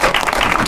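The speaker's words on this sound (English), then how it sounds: "Everyone, a round of applause for Benny." An audience breaks into steady, dense applause for Benny, loud and continuous through the short stretch with no talking.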